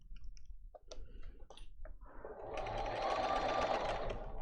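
A sewing machine stitches a fabric piece in a workshop, easing the bottom layer through; a few light clicks and handling sounds come first, then a steady, close motor whir runs loud for the last two seconds.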